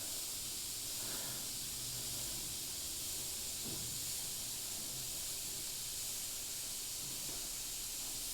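A GSI Krios PS289 airbrush with a 0.3 mm needle and nozzle sprays paint in fine lines, giving a soft, steady hiss throughout with a few faint bumps, quiet and close.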